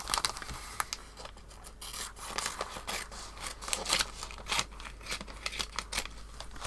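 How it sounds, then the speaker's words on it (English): Old scissors cut roughly around a piece of coral paper, making a continuous crisp rasping and crinkling close by with uneven snips and rustles, no talking. "I'm going to use my old scissors"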